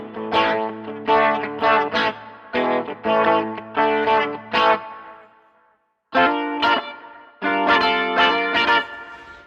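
Electric guitar with a light carbon neck played clean on the bridge pickup with the volume set halfway, strummed chords ringing in bursts with a short pause near the middle, alone and fairly loud.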